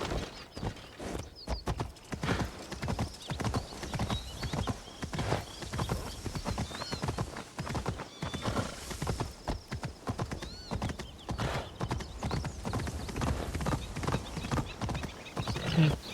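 Horse hooves clip-clop steadily in a video game, a close, even rhythm of hoof beats with a brief whinny partway through, over a soft ambient background.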